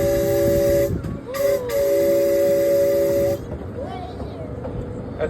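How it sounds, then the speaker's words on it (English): A loud steam train whistle on the Santa Barbara Zoo train blows in long sustained blasts with brief breaks while crossing a trestle, then cuts off, leaving rumbling engine and hiss behind. "as we cross the trestle, I'm going to blow my whistle."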